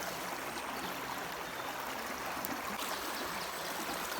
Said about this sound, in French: Ça y est, je viens de laver ma rampe.